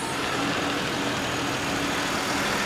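A 2007 Chevrolet Impala, a former California state department vehicle, runs with a steady, even engine drone. The rumble is close and continuous, and no voices are heard over it.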